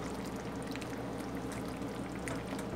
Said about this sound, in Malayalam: ഇതിൽ മോര് ആവശ്യത്തിന് ഒഴിച്ചിട്ട് നമുക്ക് വാങ്ങി വയ്ക്കാവുന്നതാണ്